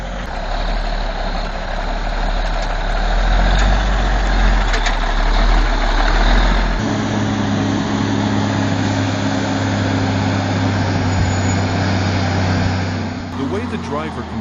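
A heavy truck loaded with tons of wood labours up a steep slope, its deep engine drone loud and continuous, shifting to a lower, steadier tone partway through, with background sound layered over it.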